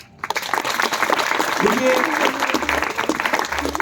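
A crowd applauds at a Hindi poetry recital, a dense spread of clapping that starts abruptly and carries on steadily, with a voice speaking over it partway through.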